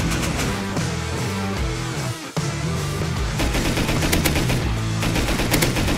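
Sustained automatic gunfire in the survival game Rust during a raid defence, loud and close, a dense stream of rapid shots with one brief pause midway, no talking.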